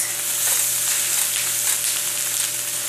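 Rice frying in a wok for pineapple fried rice, a bright, steady sizzle that stays even and close throughout, with no talk.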